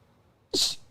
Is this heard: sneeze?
yes